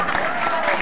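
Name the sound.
audience applause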